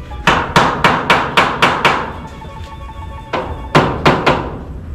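Nails hammered into a house roof while storm-proofing, a quick run of seven sharp metallic blows, a short pause, then three more, loud and close.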